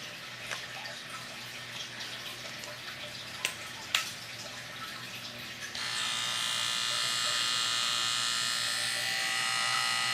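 Baby electric hair clippers run as a steady buzzing hum, changing to a louder, brighter tone partway through as a different head or setting is engaged, close and continuous with no talking.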